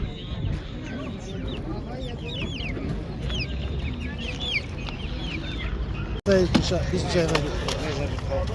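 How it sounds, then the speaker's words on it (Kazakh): Adler breed chickens clucking and calling at a busy outdoor poultry market in Kyzylorda, their steady clucks layered over crowd chatter and people talking nearby, with a sharp brief knock near the end. "Яғни бұл Адлер тұқымды тауық қой."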